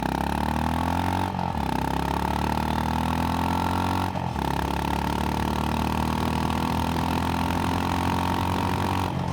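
Honda GB350S motorcycle loaded with gear accelerating hard from standstill toward 100, a loud, steady engine drone climbing in pitch through the gears with brief dips at each shift.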